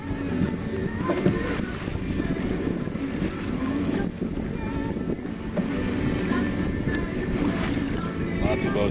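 A sailboat plies choppy water off Alki in Seattle, with waves slapping the hull and steady wind buffeting the microphone in a dense, continuous roar that never lets up.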